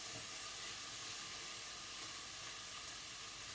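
Butter sizzles and hisses as it melts in a hot pan with bacon for macaroni cheese, a steady, even frying hiss with no breaks and no talking.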